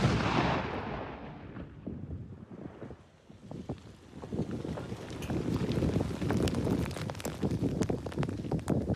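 Old mortar rounds detonate: distant blasts and muffled booms roll out under heavy wind buffeting, with scattered sharp cracks and debris-like clatter following.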